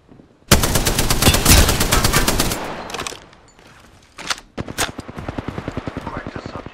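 Rapid automatic gunfire from a first-person shooter game: a long, loud, dense burst of shots, then a short pause, then a second run of quicker, evenly spaced shots.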